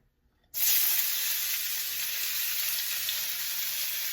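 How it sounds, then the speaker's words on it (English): Zucchini hits a hot pan and breaks into a loud, steady sizzle after a brief quiet start, holding an even frying hiss throughout with no talking. "now we're going to put our zucchini in"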